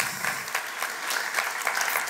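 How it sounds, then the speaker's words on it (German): An audience of school students gives a short, light round of clapping at a mathematics lecture. The individual claps are fairly faint and sparse and stay close together. "Das ist ein kleiner Applaus wert."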